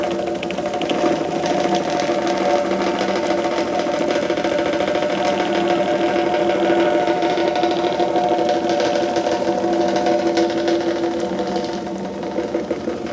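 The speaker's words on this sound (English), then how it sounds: "One path with a skid steer." A new Bobcat T86 skid steer engine runs steadily, a continuous close mechanical drone with a buzzing, vibrating tone that holds level before easing slightly at the end.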